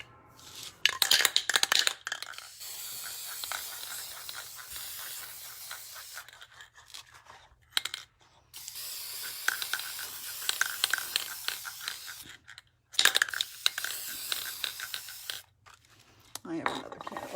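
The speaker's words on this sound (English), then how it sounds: "I'm just going to quickly use this UV clear on it" UV clear coat is sprayed onto a painted snow globe in loud, close, hissing bursts of several seconds each, separated by brief pauses and small handling noises.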